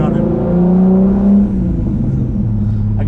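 A turbocharged VR6-swapped Audi B5 A4 pulls under acceleration, its engine note rising steadily as a loud, close cabin drone and then easing, while occupants talk over it.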